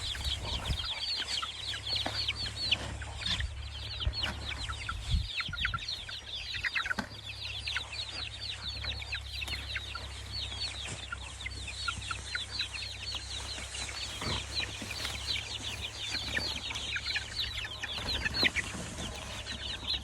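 A batch of young chicks being gently herded into a coop, giving constant high peeping and clucking over a low steady hum, with a few scattered thumps and no talking.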